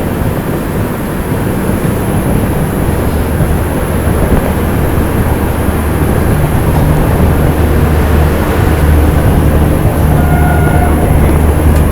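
A Puri–Anand Vihar Purushottam Express overtakes on an Indian railway line, a steady loud rumble of wheels and carriages rolling past close by for the whole stretch, with no talk.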